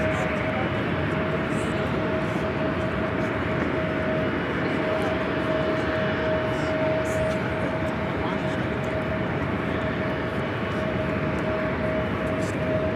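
A Southwest airliner at LAX airport produces a loud, steady engine roar with a sustained whining tone, heard continuously from start to finish, with voices faintly mixed in beneath.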